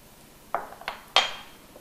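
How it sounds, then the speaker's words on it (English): Brown sugar and cinnamon being mixed in a bowl, a few light clinks and scrapes of a utensil against the bowl, close and sparse in a quiet kitchen. "Mix that up nicely."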